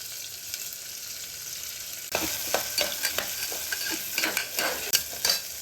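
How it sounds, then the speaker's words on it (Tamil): Onions sauté and sizzle in a pan for bisi bele bath, a steady frying hiss with a spoon stirring and scraping in repeated strokes, close and alone with no talk. "வெங்காயம் வதக்கிட்டு கொஞ்சம் லைட்டாக உப்பு"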